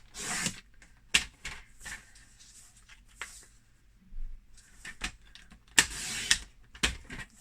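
Patterned paper is trimmed into 4.5-centimetre squares with a paper trimmer, giving several sharp, close slicing strokes separated by quiet pauses.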